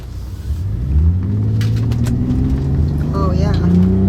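A 2005 Bentley with a factory W12 engine pulls hard from inside the cabin, a deep rising engine roar building steadily under excited chatter from the occupants.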